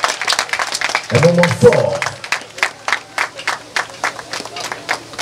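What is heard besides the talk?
applause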